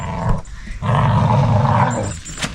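Two dogs playing and wrestling give loud, close, rumbling growls in two sustained bursts separated by a short pause, with a sharp yip or snap at the end.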